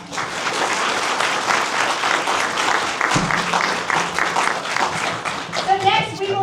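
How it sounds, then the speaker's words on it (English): Audience applauding mayoral candidates at a city candidate forum in Edmond, steady dense clapping from a room full of people that thins out near the end, with a brief voice as it fades. "Could we please give them a round of applause?"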